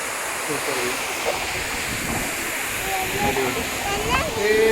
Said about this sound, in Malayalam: നമ്മളുടെ റെയിൻബോ ഫാൾസ്, നമ്മൾ റെയിൻബോ കണ്ടിരിക്കുന്നു.